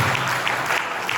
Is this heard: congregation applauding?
yes